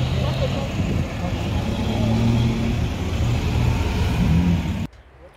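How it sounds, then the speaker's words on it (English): Continuous roar of cars passing on a road, engines droning and swelling, with voices under the traffic; the noise cuts off abruptly near the end. "When I listen, I only hear the destruction of moving cars."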